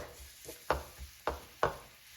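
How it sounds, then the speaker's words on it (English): Four minced garlic cloves sizzle steadily in hot olive oil, close up, with a few sharp scraping stirs breaking through the soft crackle at irregular intervals. "when the garlic starts sizzling"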